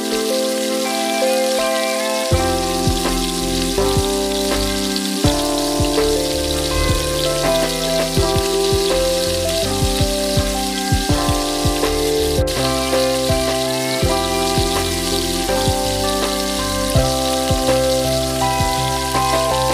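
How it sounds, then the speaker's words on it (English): Naan frying in hot oil in a pan for an aloo besan dhaba-style fried naan, giving a steady, continuous bubbling sizzle that stays level throughout, with tonal music playing over it. "Now put the naan in this pan and cook it well till it turns brown."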